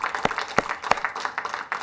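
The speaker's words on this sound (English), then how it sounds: "another round of applause, please, for them for joining us today" A short round of applause from a modest audience at a talk, a few sharp near claps standing out over the lighter patter of others, with no voices.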